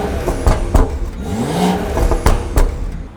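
A BMW with a B58 engine and straight pipe exhaust snaps through several sharp, loud revs close by, each burst rising and falling quickly with a raspy, crackling edge.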